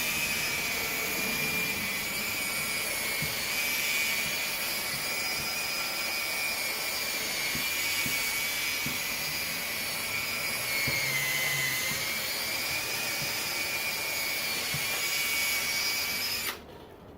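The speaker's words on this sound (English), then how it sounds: "we're gonna start wet sanding it here" Steady wet sanding of a car headlight lens, a continuous rough abrasive hiss with a faint tonal whine running through it, close and even for most of the stretch before cutting off abruptly near the end.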